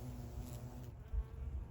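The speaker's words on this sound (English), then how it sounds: "Look at these bees." Close, steady buzzing of carpenter bees hovering around blue salvia, a soft continuous drone with faint garden background.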